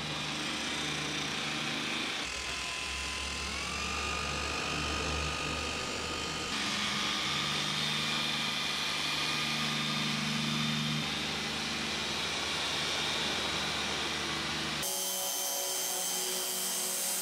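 A Mini Cooper engine idles steadily at close range during car detailing, a continuous mechanical drone with a whiny high tone that shifts pitch a couple of times before cutting off sharply near the end.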